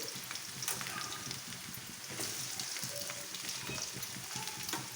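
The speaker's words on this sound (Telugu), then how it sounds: "ఇప్పుడు వచ్చేసి ఉల్లగడ్డలు అన్ని చిన్న చిన్న ముక్కలు చేసుకున్న ఉల్లగడ్డలు వేసేసుకోవాలి" Small chopped onion pieces fry in a pan with a continuous, moderately quiet sizzle and crackle, steady from start to finish and heard alone.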